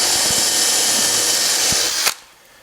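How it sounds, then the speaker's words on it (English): A power drill bores holes into a clamped wood board in a workshop, a steady close whir that runs loud and even for about two seconds, then stops abruptly, leaving faint room hiss. "start drilling right there"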